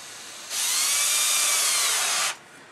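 A power drill drives a screw, whirring steadily at close range for about two seconds, a continuous high-pitched motor whine that starts and stops abruptly.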